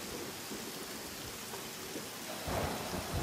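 Heavy rain pours steadily with rumbling thunder swelling near the end, a dense, loud, continuous wash with no voices.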